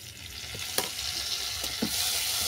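Turmeric and salt sizzle in hot oil in a village-style kitchen, cooking for a mixed-vegetable boroli fish curry. The frying is close and continuous, with a few sharp stirring scrapes.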